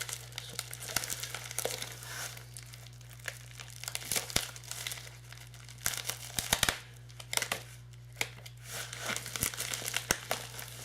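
A bubble mailer holding a Blu-ray pickup is cut and pulled open, giving a quiet run of crinkling plastic and paper rustles with sharp tearing bursts over a steady low hum, no voices.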